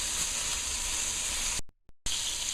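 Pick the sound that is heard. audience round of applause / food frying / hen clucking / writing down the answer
food frying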